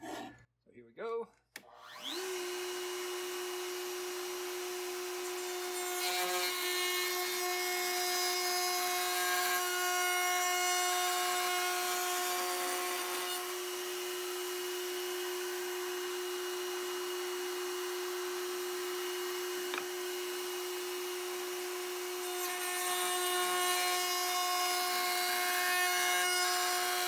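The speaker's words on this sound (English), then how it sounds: "using the router table with a round over bit, I'm gonna round over the edges of this book spine" A router table fitted with a round-over bit shaping the edges of a wooden book spine: the motor spins up and holds a steady high whine for nearly half a minute, with the pitch and roar shifting slightly as the wood feeds through.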